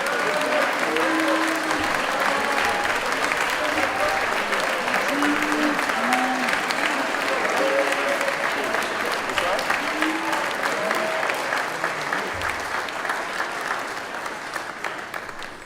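At a chapel gathering, a crowd applauds student athletes with sustained, loud clapping, while scattered voices and cheers rise through the noise before it gradually tapers off.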